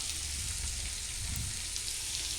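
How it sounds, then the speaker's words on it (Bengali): Chopped onion stalks fry in a pan, giving a steady, close hiss of sizzling oil that runs evenly throughout with faint stirring movement underneath. "পেঁয়াজকলি কাটা হলো ওটাকে ভেজে নেবো"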